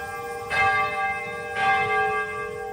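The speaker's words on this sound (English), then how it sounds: "hear the St. Kateri Bell of Peace ring across Nagasaki" A church bell, the St. Kateri Bell of Peace in Nagasaki, tolls twice about a second apart, each strike ringing out with a long, shimmering hum that lingers between them.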